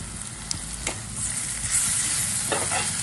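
Turmeric and ginger garlic paste fry in a pan for a bitter gourd curry, making a steady, close sizzle with a few faint stirring scrapes.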